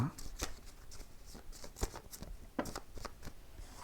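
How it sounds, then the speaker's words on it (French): Oracle cards are shuffled and drawn by hand during a tarot-style reading, soft papery riffles and slaps in quick irregular bursts, close and quiet, with a voice speaking around them. "je vais prendre 3 cartes de l'oracle Moritana"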